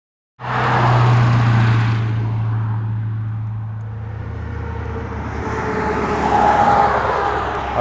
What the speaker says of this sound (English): you can probably tell because of all of the loud trucks going past